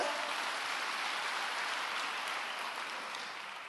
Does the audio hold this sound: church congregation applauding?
yes